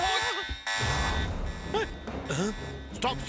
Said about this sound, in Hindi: अबे अलार्म क्यों बज रहा है?